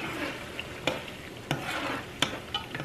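Onions fry down in a pot for a seafood boil sauce, with a soft continuous sizzle broken by several sharp scrapes of the spoon as they are stirred.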